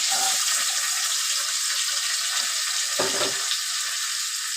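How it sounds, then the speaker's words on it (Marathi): Curry leaves and onion frying in a pan for spinach chana dal aamti, giving a steady loud sizzle throughout with a brief stirring scrape near the end. "हे बघा हे भाजतंय भाजून घ्यायचं कढीपत्ता आणि कांदा"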